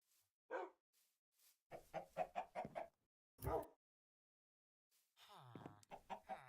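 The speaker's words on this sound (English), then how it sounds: "Chicken. chickens." Chickens in the modded Minecraft pack ATM3 Lite cluck in a quick cluster of short, close calls, with further clucks a few seconds later and a brief low thump in between.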